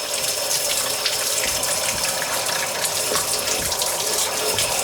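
Water runs from a Delta single-handle faucet after a leak repair. It gives a strong, steady rushing stream into the sink, loud and close, with no talking over it.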